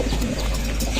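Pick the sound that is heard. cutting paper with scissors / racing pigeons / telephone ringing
racing pigeons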